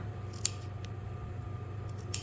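Scissors make a couple of short, crisp snips, cutting a V notch into the seam allowance of a sleeve cuff while sewing a sportswear track jacket, heard close up over a steady low hum.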